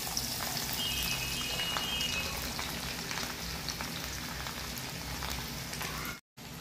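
Garlic and curry leaves sizzle in hot oil for a grated raw mango chili relish, a steady close crackle and hiss that runs unbroken until a brief cut near the end.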